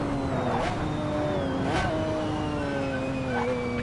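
A racing car engine in a video game howls continuously at high revs, pitch sweeping up and down through gear changes, loud and close with no voices over it.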